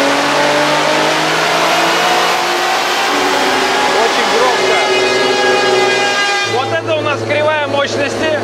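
Nissan GT-R GT-1000 engine on a dyno during tuning, rising through a long, loud sustained rev before dropping back to a steady lower drone, with people talking over it.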